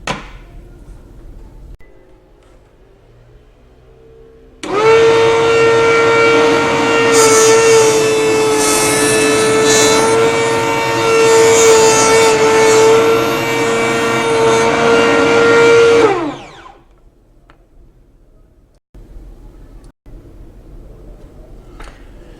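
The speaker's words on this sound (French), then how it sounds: "Donc je vais faire mon angle de chasse sur la monture." Mini milling cutter chamfering the edge of an eyeglass frame, a loud steady high-pitched grinding whine that runs about twelve seconds and then cuts off, with quiet motor hum before and after.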